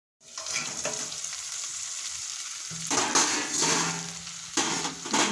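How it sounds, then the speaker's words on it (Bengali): Chicken pieces sautéed with salt and spices in a pan for a breakfast dish give a steady close sizzle, with bursts of louder scraping and stirring near the end; no one speaks. "মাংসটা আমার কষানো হয়ে গেছে"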